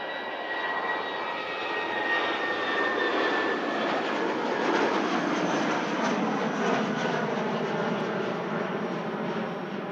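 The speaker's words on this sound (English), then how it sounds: "Quick dash down to London Heathrow for this British Airways A319" A British Airways Airbus A319 jet at Manchester Airport roars loud and sustained, a broad engine noise with a whining tone that slowly swells and eases, with no voices.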